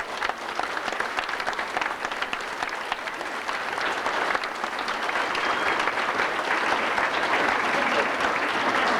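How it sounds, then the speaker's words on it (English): A middle school banquet audience gives the students a sustained round of applause, a dense, steady wash of clapping that swells slightly louder toward the end. "give one more round of applause for all the students"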